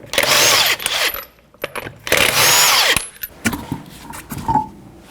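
A power tool with a 21mm socket removes a front wheel from a 2006-12 Toyota RAV4, giving two loud, close bursts of about a second each, followed by quieter clinks and handling noises.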